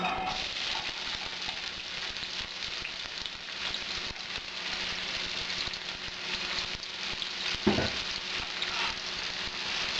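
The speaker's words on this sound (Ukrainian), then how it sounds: "Зараз будемо тушити нашу цибулю з морквою." Onion and carrot stewing in a pan, a steady close sizzle and soft bubbling that runs without a break, with one brief clatter partway through.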